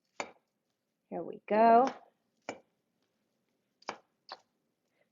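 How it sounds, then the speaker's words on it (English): Knife rough-chopping salad vegetables for a Greek salad on a cutting board, a few sharp separate chops spread across the moment, with a short spoken phrase in the middle. "Okay, so rough chopping this."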